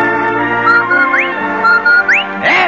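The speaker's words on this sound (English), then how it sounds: "That's the Rinso White whistle." A whistled Rinso White jingle from an old-time radio broadcast: a loud, close run of rising and sliding whistle notes with a few short pauses, heard alone.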